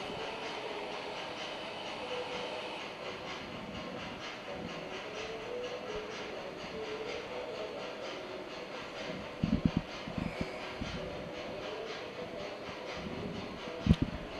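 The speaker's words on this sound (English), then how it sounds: "Sometimes the noise of the train gets a little much for it" A small model train hums and rumbles steadily along its track, with occasional clicks and clacks over a constant mechanical background.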